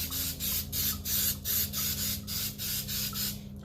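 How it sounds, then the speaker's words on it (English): Short bursts of coconut oil cooking spray hiss out in a quick, regular rhythm, about nine close-up sprays with brief pauses between them. "I'm gonna go ahead and spray the inside with my coconut oil here."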